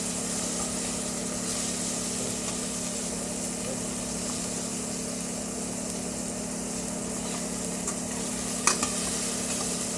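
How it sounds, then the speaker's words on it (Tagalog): Garlic and onion sauté in a pan for monggo soup, giving a steady, moderate sizzle with a constant low hum underneath and a brief scrape of stirring near the end. "Sosote natin ang garlic onion."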